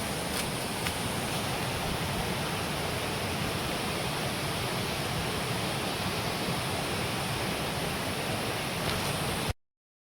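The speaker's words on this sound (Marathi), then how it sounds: "तुम्ही आता सवतकडाचा आवाज ऐकू शकता." Savatkada waterfall in the Konkan roars as a loud, continuous rush of falling water. The dense wash of sound stays constant for nearly ten seconds, then cuts off abruptly.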